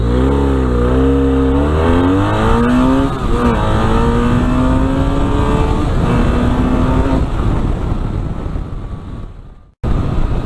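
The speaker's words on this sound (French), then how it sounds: "je vais en profiter pour faire un petit départ arrêté 0 à 100 en mode sport" A BMW F 800 R motorcycle launches from a standstill to 100 km/h in sport mode on a quiet road, its engine note rising through several gear changes with wind rush building, then cutting off abruptly near the end.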